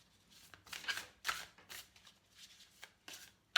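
Tarot cards are shuffled and handled in short, close bursts of riffling and sliding, quiet, with small pauses between the flurries.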